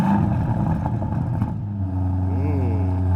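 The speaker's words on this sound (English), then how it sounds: "Aston Martin has done a lot of work tuning the exhaust so it sounds superb" An Aston Martin DBX SUV engine fires up and revs loudly close by, a dense rumbling roar that settles into a steady idle drone with a rising rev near the end.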